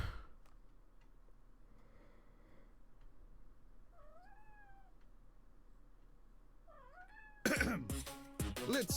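A cat meows alone in the game Project Eden's Garden, two faint rising-and-falling calls a few seconds apart over near-silence, followed by a sudden loud burst of broadband noise at the end.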